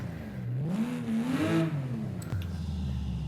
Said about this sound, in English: a 2-liter F4 turbo. Okay, that does sound nice.